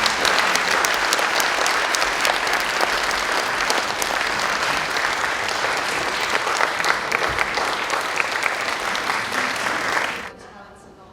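Audience applause welcoming a string ensemble at a music camp concert, dense sustained clapping from a large crowd that holds steady for about ten seconds, then cuts off abruptly.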